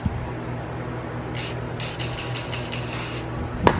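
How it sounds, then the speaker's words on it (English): A spray bottle of wheel cleaner squirts onto a rag for Volk Racing RE30 forged wheels: one short burst, then a longer run of quick hissing pumps, close up, ending in a soft knock. "What you can do is spray it around, but what I like doing is just putting it on a rag."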